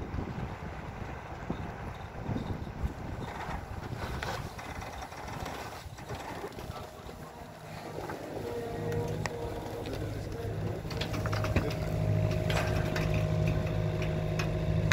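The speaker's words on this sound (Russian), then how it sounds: "Заскрипела мачта." A sailboat's mast creaks as the boat turns under motor, with sustained tonal creaking groans rising in the second half over steady wind and engine rumble, fairly faint and close by.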